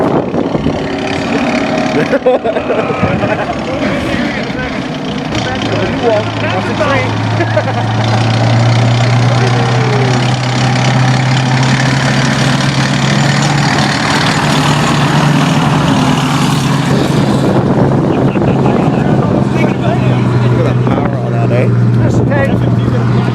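A running Sherman tank engine, one of Canada's last and the first vehicle off the General Motors line in Oshawa, rumbles with a loud, steady low drone while people talk over it.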